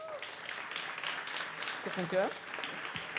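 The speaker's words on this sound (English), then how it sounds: "Welcome, with a warm applause" Audience applause welcomes the GameBCN game development teams at a demo day event: steady, dense clapping runs throughout, with a voice briefly speaking over it.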